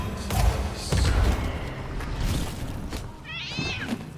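A cat in the pirate video game Sea of Thieves gives one clear, rising-and-falling meow near the end, following a few dull thuds and muffled bumps.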